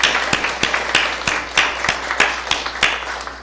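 Church congregation at a Sunday worship service applauding, a steady patter of many hands with sharp regular claps standing out, close and moderately loud, no talk.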